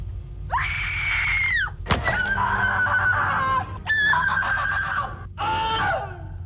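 A person gives a shrill, drawn-out scream as an example for a radio call-in scream contest, several piercing wavering bursts with short gaps, loud and close.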